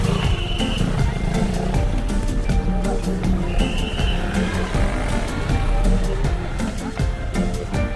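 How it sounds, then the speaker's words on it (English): Dense street traffic crawls through busy shopping streets in Ciudad del Este, Paraguay, with a steady close rumble of engines and motorbikes, scattered clatter and a couple of higher tonal horn-like notes. "You're just sitting here in traffic."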